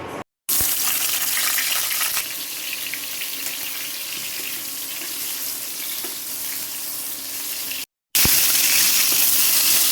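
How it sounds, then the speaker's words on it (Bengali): Boiled fish roe poured into a strainer, water rushing and splashing steadily into a sink at close range, with a brief pause before the flow resumes. "ডিমটা ভালোভাবে সিদ্ধ করা হয়ে গেছে, এখন এটা ভালো করে ছেঁকে নেওয়া হচ্ছে"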